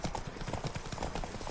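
Horse hooves clip-clopping in The Witcher 3, a steady close rhythm of hoof strikes on a hard path, carrying through the whole moment with no voices over it.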